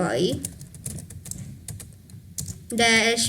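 Typing on a computer keyboard while entering a command: quick, light clicks of keys in an uneven run, with a voice starting at the very end.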